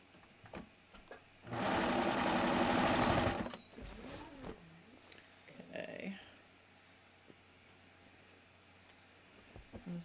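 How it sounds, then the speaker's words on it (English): A sewing machine runs one burst of about two seconds stitching a bathrobe seam, a close, steady whirring drone, followed by quieter handling noises, fabric shuffling and a few faint knocks. "let me just sew this seam"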